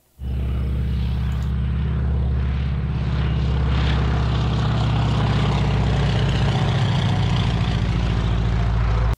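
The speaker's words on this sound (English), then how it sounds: "we were even treated to a kind of a unique flyby with an extra 300 and a steerman" An Extra 300 aerobatic plane and a Stearman biplane flying past at a fly-in in Steinbach, Manitoba: a loud, sustained propeller-engine roar close by for about eight seconds, with no talk.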